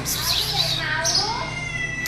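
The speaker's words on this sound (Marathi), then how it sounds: "ती म्हणते मी पण आले म्याव म्याव करते" A domestic cat meows a few times at close range, with people talking over it.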